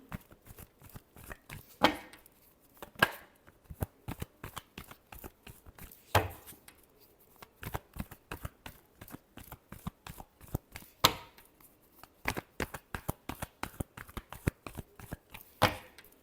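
Tarot cards are shuffled by hand in a run of quick riffles and soft slaps, close and fairly quiet, with short pauses between bursts and no talk.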